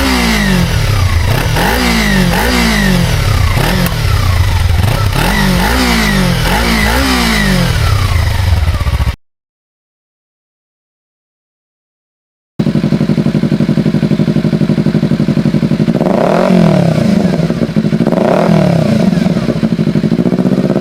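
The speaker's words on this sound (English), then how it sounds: "this bike revs all the way up to" A used motorbike on a dealer lot revs repeatedly toward 13,000 rpm, loud and close, in sharp rising and falling bursts; the sound cuts out briefly, then resumes with a steadier engine note and a couple more quick revs.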